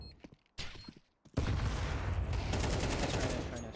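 Gunfire in a Counter-Strike playoff match: a few isolated shots, then a sustained dense burst of rapid automatic fire that fills the rest of the moment, loud and continuous.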